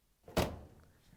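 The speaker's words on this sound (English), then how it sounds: "we're going to close the door again" The front door of a Maytag dryer swings shut with a single soft, close thunk, followed by a brief fading rattle in an otherwise quiet room.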